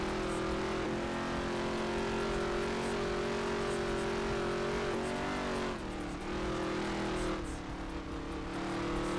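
Race car engine in the NASCAR Heat 3 video game, a loud continuous whine held near its rev limit with steady harmonics that dip briefly and climb again, no voices over it.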